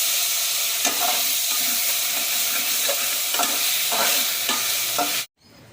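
Mint and green chillies are stirred into prawn biryani in a pressure cooker: a steady close sizzle of frying with repeated soft scraping stirs, ending abruptly.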